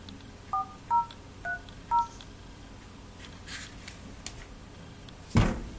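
Four short, clean keypad dialing tones from a Sony Ericsson Xperia Arc smartphone beep in an evenly spaced row, followed by faint handling clicks and a soft thump in a quiet room.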